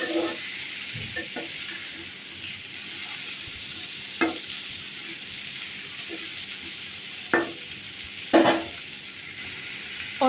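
Potato and pumpkin curry with chopped onion is stirred in a pan, a soft steady sizzle with a few sharp scrapes and clinks of the spoon against the pan scattered through it.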